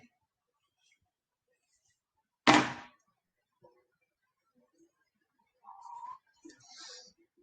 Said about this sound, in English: The police has just knocked on the door.